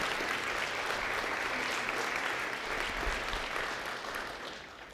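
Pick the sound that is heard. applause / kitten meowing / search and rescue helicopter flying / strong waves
applause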